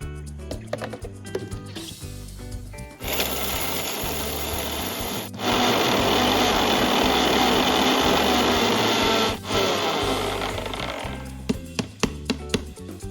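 A mixer grinder runs loud and steady for about seven seconds, pulverising roasted jackfruit seeds into a coffee-coloured powder. Quieter handling clatter comes before and after the whirring grind.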